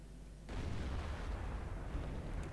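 Tank gun firing in the World of Tanks video game, from an E-100 match on the Murowanka map: a single sudden heavy boom that cuts in sharply and rolls on as a dense, rumbling blast to the end.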